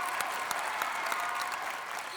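Studio audience at a Marathi TV comedy show applauding steadily, a dense wash of clapping with scattered sharper claps, sustained at even loudness throughout.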